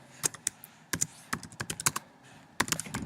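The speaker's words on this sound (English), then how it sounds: "you can type in a research question" Fingers type on a computer keyboard in crisp, close key clicks, irregular short bursts with brief pauses between words, with no talking.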